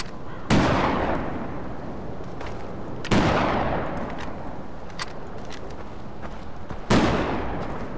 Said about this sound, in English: I can hear someone shooting.